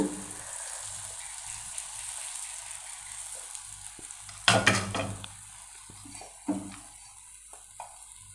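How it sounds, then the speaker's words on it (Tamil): Rava ragi dosa batter poured onto a hot dosa griddle sizzles steadily and softly, with a louder burst of crackling midway and a few scraping knocks, no voices. "இதை அடுப்பில் தோசைக்கல்லை வச்சு ஊற்றலாம்."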